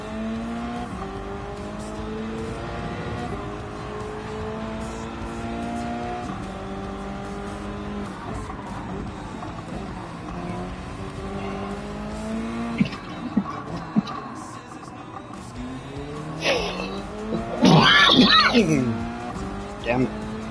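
Racing car engine in a racing video game, revving up and down through the gears in a steady loud drone, with a burst of skidding tire squeal near the end.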